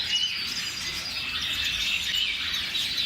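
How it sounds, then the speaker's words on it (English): Many finches, including zebra finches, chirp and twitter together inside a bird store, a dense, continuous high-pitched chorus at moderate loudness with no voices. "There's a lots of finches in here."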